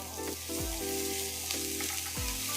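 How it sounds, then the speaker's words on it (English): Steady, busy sizzling of aromatics—scallion and ginger—frying in a hot pan, with a few soft stirring scrapes and clinks over the crackle. "You want to hear the sizzling sound, but without burning your aromatics"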